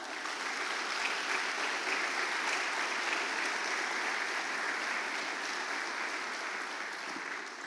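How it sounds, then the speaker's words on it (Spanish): A church congregation applauds steadily during a sermon, a dense, even wash of clapping from many hands that holds at a constant level throughout with no talk over it. "¿Le dan un fuerte aplauso a Dios?"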